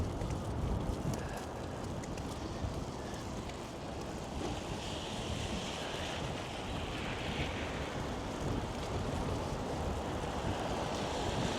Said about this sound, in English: It's almost like a prolonged gale force sort of wind happening.